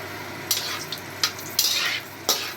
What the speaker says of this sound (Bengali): তেলটা বেশ লাল হয়ে গেছে, সবগুলো মশলাগুলো ফ্রাই হয়ে গেছে।